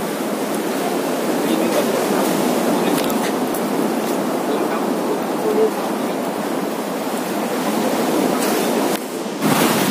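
Sea surf along the Harihareshwar shoreline, a constant broadband roar of breaking waves that stays loud and steady throughout, with a brief dip near the end.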